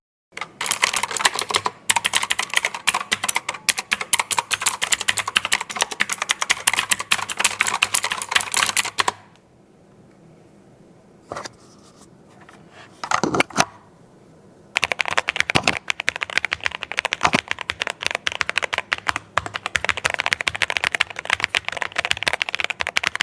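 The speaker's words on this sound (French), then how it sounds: "on va aller voir du côté du clavier, quel est le son des touches" Close, rapid typing on a MonsGeek M1 V3 mechanical keyboard produces dense bursts of clacking keystrokes. A few seconds of near silence with scattered isolated clicks interrupt the bursts before fast typing resumes.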